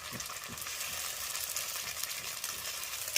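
Spices go into onions frying in a pan for a country chicken and goat meat curry, giving a soft, steady sizzle with faint stirring, quiet and continuous.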